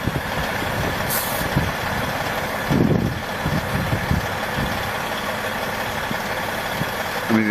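A military truck idles close by with a loud, steady diesel rumble, broken by a brief high hiss and a few short knocks.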